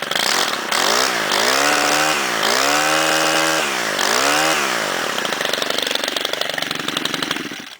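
Stihl string trimmer engine just after a cold start, loud and close, revving up and down in several repeated swells before settling into a buzzy, sputtering idle.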